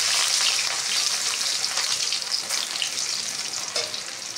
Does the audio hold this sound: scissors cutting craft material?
no